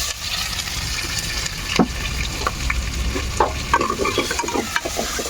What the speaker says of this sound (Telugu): ఉల్లిపాయలు అవి బాగా వేగాలి